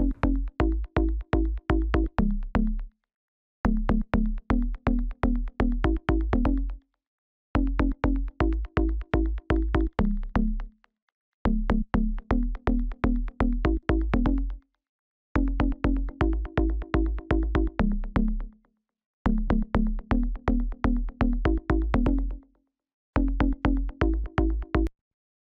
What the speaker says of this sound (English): We can use a slap kind of delay to get that wide effect on the bass.